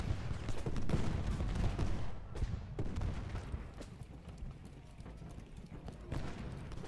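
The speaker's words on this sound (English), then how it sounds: "Alright, Archer, go ahead and fire." Musket volley fire in the Ultimate General Gettysburg video game, a burst of crackling shots in the first seconds followed by scattered quieter pops and battle noise.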